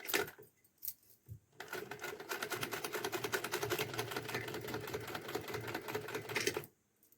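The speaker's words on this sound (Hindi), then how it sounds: "इसी तरह हमने इसमें सिलाई लगानी है" Sewing machine stitching a small summer dress for a Laddu Gopal idol, a few short starts followed by a steady rapid mechanical chatter of needle strokes for about five seconds, close and fairly quiet, then stopping.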